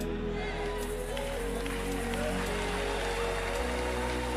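Rain falls in a steady, dense hiss with a low rumbling undertone that continues without a break, close and fairly loud.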